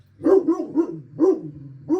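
A dog barks in a quick series of loud, close, yelping barks, several in a row with brief pauses between them, with no talk over it.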